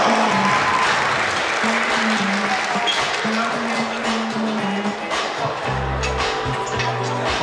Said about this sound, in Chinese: 掌声鼓励给所有热情的 B 组的选手